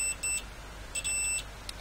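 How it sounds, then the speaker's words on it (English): Beeps from a TDA2020 amplifier under repair with its volume potentiometer turned all the way up: two short high tones followed by a longer one, close and clear, with no talk. "Yep, we have a beep there."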